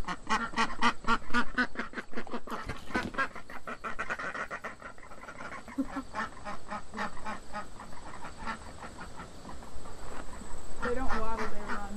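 Indian runner ducks quack in rapid, repeated bursts, a dense flock calling nearby and fairly loud, with a brief pause midway before the chorus resumes and builds again toward the end.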